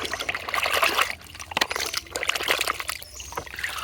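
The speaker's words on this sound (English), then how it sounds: "water, a fresh water, amazing fresh water" Fresh water trickles and splashes while toy vehicles such as a double decker school bus are washed, a continuous close pouring and dribbling sound with small sloshes, fairly quiet and with no voice.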